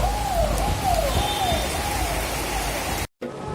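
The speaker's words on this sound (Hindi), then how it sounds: "देखिए बारिश शुरू हो गई है" Rain falls in Varanasi as a steady, even hiss, with a faint warbling tone rising and falling above it before the sound cuts out briefly near the end.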